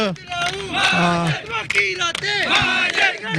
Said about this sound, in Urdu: نعرے بازی بھی ہو رہی ہے